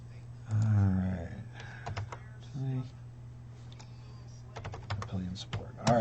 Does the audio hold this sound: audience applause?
no